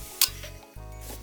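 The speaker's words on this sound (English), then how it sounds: "Is this seatbelt? It clicks." A car seatbelt buckle in a BMW E36 interior clicks and rattles a couple of times, close and sharp, with faint rubbing handling sounds between.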